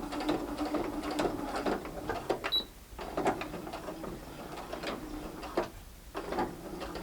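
A sewing machine top-stitches around fabric in short bursts of rapid mechanical whirring, pausing briefly between runs, close and moderately loud with light clicks of the mechanism.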